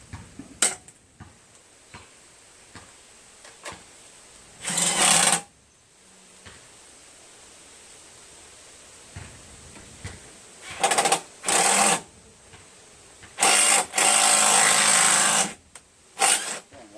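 Power tool driving 3/8 bolts back into a Craftsman 6.75 Briggs Quantum self-propelled lawn mower: short whirring bursts, one near five seconds and several clustered late, with light clicks and clatter in the quiet gaps and no talk.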